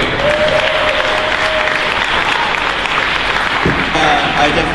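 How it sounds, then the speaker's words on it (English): A triathlon event audience breaks into loud, sustained applause that fills the whole stretch, dense clapping with a few cheers and a crowd voice rising near the end. "So how about a big round of applause?"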